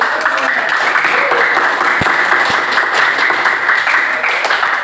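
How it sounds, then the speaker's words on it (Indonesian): A classroom of students applauds, dense and steady clapping from a group lasting throughout with an even, sustained level. "Tepuk tangan dulu."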